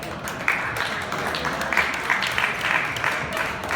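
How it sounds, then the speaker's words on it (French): Audience applause for an entrepreneur and angel investor as he is introduced at a talk, a steady, moderately loud patter of many hands lasting several seconds with no voices over it. "Alain Mignot, une bonne main d'applaudissements."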